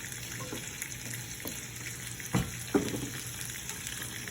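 Chicken, carrots, string beans and radishes fry quietly in a pan, a soft steady sizzle with a couple of sharp clinks of utensils midway.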